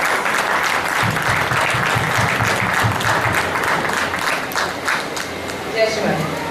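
Sustained audience applause greeting guests at a Navaratri Puja medical seminar in Oman, a thick, even roar of many hands clapping throughout, with a few voices rising faintly near the end.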